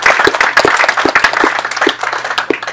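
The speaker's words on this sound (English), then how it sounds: "if we could just give a round of applause for Alberto" Applause for Alberto at a Rotary Club meeting, a modest roomful of people clapping with distinct individual hand claps, close and lively, tapering off slightly toward the end.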